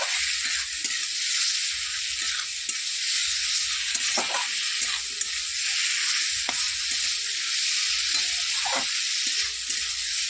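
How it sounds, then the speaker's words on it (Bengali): Soft hiss of fried potato and cauliflower cooking in a pan, with repeated scraping strokes of a spatula stirring at a steady, unhurried rhythm. "এবার এর মধ্যে দিয়ে দেবো আলু ফুলকপি ভাজা, এটা দিয়ে দিলাম। এটা ভালো করে একটু নাড়বো।"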